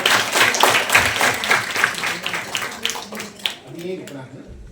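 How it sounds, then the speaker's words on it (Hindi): Audience at a college event clapping for a prize winner, a dense burst of applause that fades over a few seconds while people talk through it. "तालियां बजाओ भाई।"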